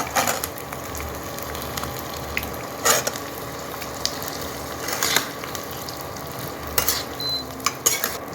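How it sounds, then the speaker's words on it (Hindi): Jaggery stirred into hot ghee for Rajasthani fenugreek seed laddoos, giving a soft steady sizzle with scattered scraping stirs and spoon clinks against the pan, several sharper knocks standing out, no talking. "अब यहाँ पे मैं गुड़ डाल दूँ।"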